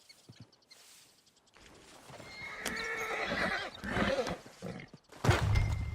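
Horses in the Red Dead Redemption 2 video game whinny loudly and their hooves clip-clop across the ground, the sounds building from quiet to a loud, close burst at the end.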